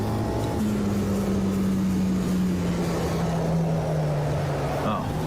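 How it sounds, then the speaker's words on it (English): Race car engine in the Automobilista 2 racing game, a steady droning tone that slowly falls in pitch, heard close and continuous under a broad rumble of tyre and track noise. "This car sounds like a chainsaw."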